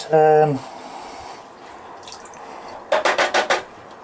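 Acid filtering away during gold recovery from RAM sticks, with a short tonal ring at the start, then quiet background and a quick run of four or five sharp drip or splash sounds near the end.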